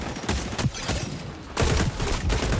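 Dense, continuous automatic gunfire from the multiplayer shooter XDefiant on PS5, loud and sustained with heavier surges of shots near the end.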